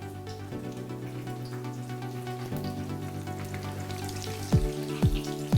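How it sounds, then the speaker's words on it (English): Steady sizzling of egg-dipped bread frying in a hot pan, with a constant hiss and a few louder pops and crackles toward the end. "You dip it in the egg mixture and into the frying pan."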